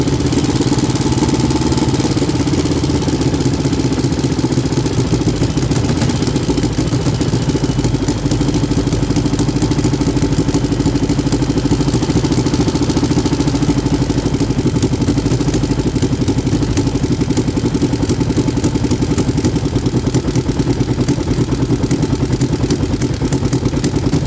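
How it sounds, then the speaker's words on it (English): A 3D-printed inline two-cylinder four-stroke engine runs steadily with a misfire on cylinder 1, giving a loud, continuous uneven clattering chug up close for the whole stretch with no voices. "I'm gonna show you this last clip where it developed a misfire on cylinder 1"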